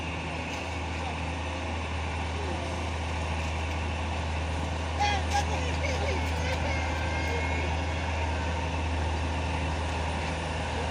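Two trucks on a road in Kalimantan, one of them a trailer rig, produce a steady, continuous low engine drone that holds unchanged throughout, loud and near.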